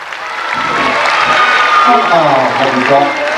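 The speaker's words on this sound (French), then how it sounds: "On l'applaudit également très très fort." An audience applauds loudly at a 1991 Christmas company event, the clapping steady and sustained throughout, with a host's voice talking over it.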